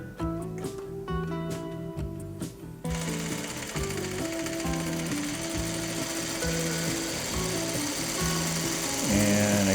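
A sewing machine stitches quilt block fabric along a diagonal line, opening with a few short bursts, then running in a steady, loud, rapid mechanical clatter close up with no talk.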